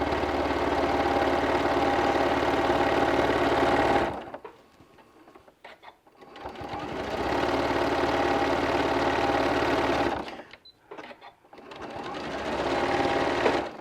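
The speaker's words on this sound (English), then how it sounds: "We'll start stitching, back stitch." A sewing machine stitches fabric with back stitching for boxed corners, running in two long, steady, loud whirring bursts of about four seconds each. A brief quiet gap with faint handling separates them, and a shorter run starts at the end.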